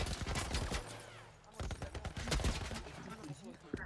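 Military turret gunfire in The Last of Us remake: rapid, loud bursts of shots repeat through the whole stretch with gaps between volleys, while a player talks over the game sound.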